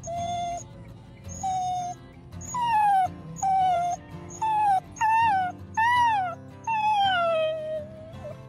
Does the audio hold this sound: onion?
no